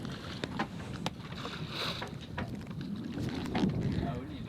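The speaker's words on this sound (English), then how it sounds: "All right, we're sailing. Well, the motor's still running." The engine of a Beneteau 423 sailboat idles while the boat is under sail, giving a low, steady rumble beneath wind and water noise, with faint voices now and then.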